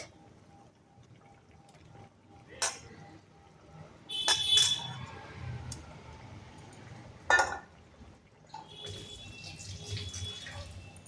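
Fried tilapia pieces go into a boiling homemade tilapia curry, giving a few brief splashes and clunks over a low, steady bubbling.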